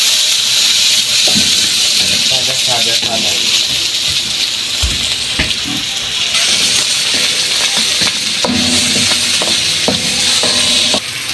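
String beans with beef frying in a pan, a steady loud sizzle and hiss running throughout, with scattered clinks and stirring scrapes of utensil on pan and some voices talking nearby.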